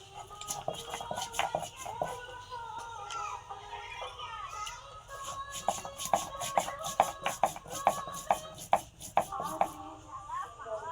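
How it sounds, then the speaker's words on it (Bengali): Ginger and cumin are ground into a spice paste by hand in a home kitchen, making rhythmic knocks and scrapes that grow louder and quicker toward the end, with faint voices in the background. "আমি আদা জিরে বেটে নিচ্ছি মশলা"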